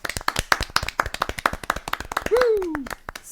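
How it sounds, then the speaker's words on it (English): A quick round of clapping on a craft beer podcast: steady, rhythmic handclaps close to the microphone, joined near the end by a rising and falling vocal whoop. "So a quick round of applause."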